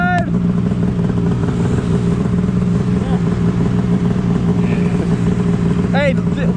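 A brand-new 2022 Ski-Doo Freeride 850 snowmobile engine droning loud and close on its first ride, a steady mid-pitched roar with rising whistles near the end, people talking over it.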